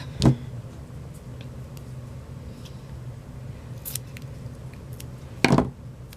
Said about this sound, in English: just cut the piece that you need, which is just the lid right there